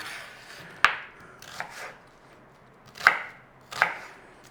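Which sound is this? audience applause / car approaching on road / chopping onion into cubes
chopping onion into cubes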